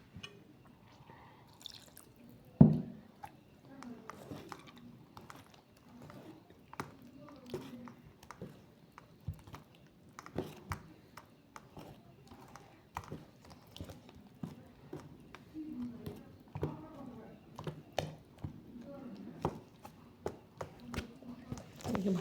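Eggless orange cake batter being stirred in a bowl with a splash of water added, soft wet clicks and sloshes in an uneven rhythm, faint and close, with occasional speech.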